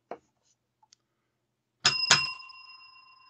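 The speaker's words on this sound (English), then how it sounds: "That was the double bell." Two quick bell strikes ring out close together, a double ring with a clear metallic tone that lingers and slowly fades. Before it there are only a few faint small clicks.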